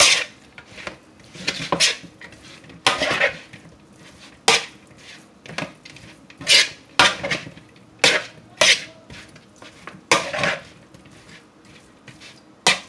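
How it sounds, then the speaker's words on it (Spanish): A spoon scraping and clinking through a cabbage salad with tomato, meat and onion in a bowl, irregular close knocks and scrapes repeating throughout, no talking. "la vamos a mover con una cuchara para que se mezcle el tomate, la carne, la cebolla"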